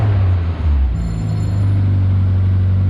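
An MG Midget with a K series engine idles through a new long exhaust, giving a steady, deep, loud rumble with a slight lift in note partway through, close by and without talk.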